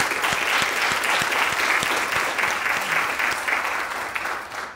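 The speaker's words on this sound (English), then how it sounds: "Let's give them an applause." Audience applause for a philanthropy panel at a live event, a steady dense clapping from a room-sized crowd that holds for the whole stretch and tapers slightly at the end.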